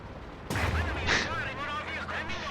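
Infantry support gun firing in a World War strategy video game, with one sharp loud blast followed by a rolling rumble and ringing tail, heard under a commentator's talk.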